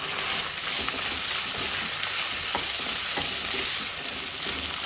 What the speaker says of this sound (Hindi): तो फ्राई फॉर 2 मिनट्स